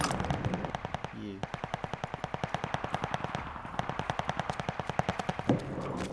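An MG42 machine gun fires in a video game, a long close burst of extremely rapid shots with a few brief breaks, while faint voices are heard briefly underneath.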